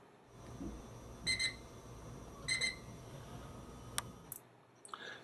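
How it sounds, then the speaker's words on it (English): A Desco body voltage monitor sounds its alarm in two short repeated beeping bursts over a steady background hum, with sharp clicks after, close and alone. "The induced voltage will cause the monitor to alarm."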